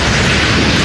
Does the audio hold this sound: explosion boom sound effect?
yes